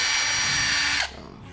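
Mace Plus cordless drill whirring at its middle speed setting, a steady high whine for about a second that cuts off abruptly as the motor spins down.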